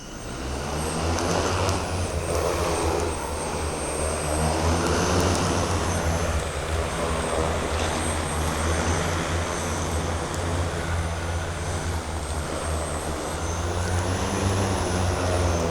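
Propellers of a 3D printed eVTOL flying car drone droning steadily as it flies back, a continuous loud buzzing whir with no speech.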